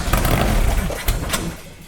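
A Ford Formula 2000 race car engine cranks and tries to catch, loud and close, with a rough low rumble and a few sharp bursts over about two seconds.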